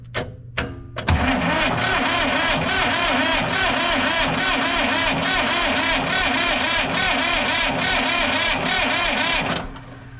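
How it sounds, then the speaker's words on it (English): A new starter cranks an old diesel roller compactor engine after a couple of brief clicks, then a loud, fast, rhythmic churning that runs steadily for about eight seconds without catching before stopping. "I'm just gonna test the starter here."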